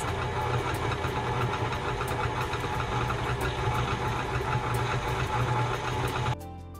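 An electric mixer beats buttercream frosting at medium speed with a steady, close, buzzing whir that runs for about six seconds and then cuts off.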